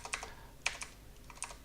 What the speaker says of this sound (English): so I need to type that in.